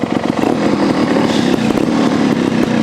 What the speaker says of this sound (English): Here we go, first run, STR 300 Sherco.